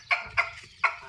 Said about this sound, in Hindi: मुर्गा तो आ गया खाने के लिए, मुर्गी खाने लग गई है।